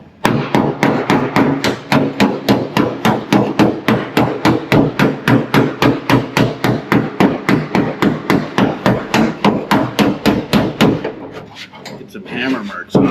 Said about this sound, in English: I'm gonna get a hammer and dolly on this.